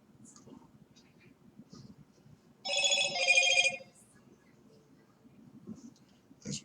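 A telephone rings in one brief electronic trill burst lasting about a second, set against faint rustling and soft, whispery background noise.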